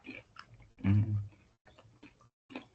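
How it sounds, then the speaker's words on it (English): Someone nearby chews food in irregular, wet, smacking bursts with short silent gaps between them, loud against an otherwise quiet room. "Is that a human being chewing something like that?"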